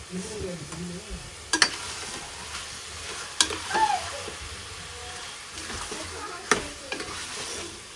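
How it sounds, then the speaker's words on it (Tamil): Chicken frying in oil with onion and tomato for a curry masala, a steady sizzle with occasional sharp clinks and stirring scrapes of a spoon against the pot, close up and alone without speech. "சிக்கனில் சிக்கன் இந்த ஆயில் வெங்காயம் தக்காளியில் வேகணும்"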